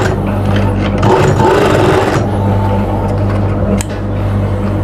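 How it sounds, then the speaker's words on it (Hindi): A sewing machine stitches the cuff of an Afghani-style kurta, giving off a steady, close mechanical whir and hum that runs continuously with only a brief dip near the end. "तो ये हम इसके हिसाब से इसको सिलाई लगा लेते हैं।"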